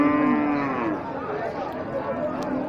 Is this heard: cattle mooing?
yes